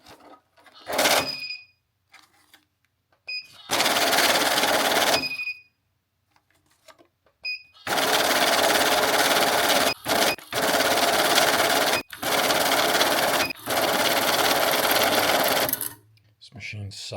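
Coin counting machine counting quarters from a car wash, loud rattling whirring bursts of several seconds each separated by pauses, with some talking in between.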